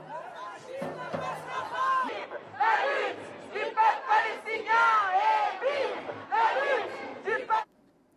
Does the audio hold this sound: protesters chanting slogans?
yes